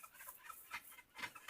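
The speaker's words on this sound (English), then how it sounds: "Those birds are called guacharacas, and they are similar to a chicken, but they fly. But they have their cry, their song." Guacharaca birds, chicken-like flying birds, call from an avocado slope, giving a couple of faint, raspy clucking cries in quick succession.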